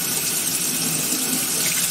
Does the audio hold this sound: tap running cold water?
yes